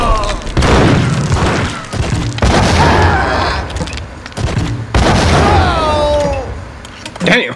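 Gunfire from the Max Payne video game, loud booming shots and bursts mixed with game effects, running through most of the stretch with someone talking excitedly over it.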